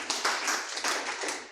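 A church congregation claps in a dense burst of many hands, brisk and fairly loud, filling the room for a moment without talking.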